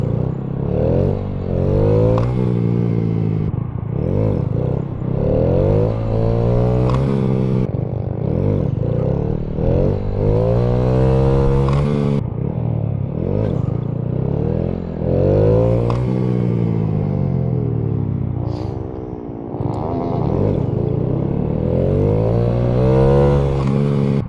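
A 2015 Honda Grom motorcycle engine hums loudly and steadily close by, its pitch wavering and dipping as the throttle is eased off, with faint clattering mixed in.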